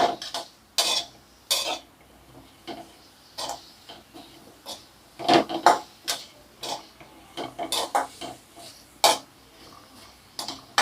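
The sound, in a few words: stirring salt into mango pachadi in a bowl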